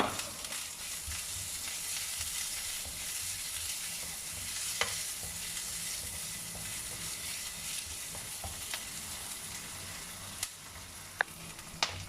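Small chilies and ginger fry in a pan as the base for a fish broth, a steady close sizzle with continuous stirring and occasional sharp spoon taps on the pan.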